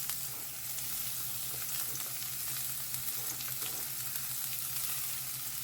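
Onion fries in oil in a pan for dal, producing a steady, fairly soft sizzle that runs unbroken throughout with no voices.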